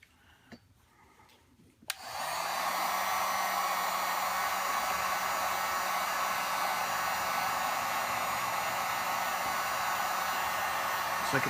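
A heat blower switches on and runs steadily, drying epoxy on an Obeanuf LP-style guitar: a loud, even, hissing whoosh with a faint motor hum that holds for about ten seconds after a quiet start with a few handling knocks.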